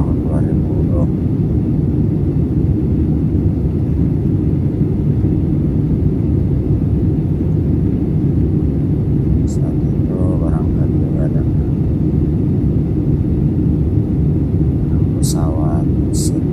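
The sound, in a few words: airplane engine rumble during flight from Makassar to Palu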